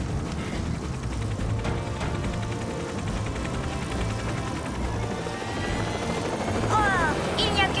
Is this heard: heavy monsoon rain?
no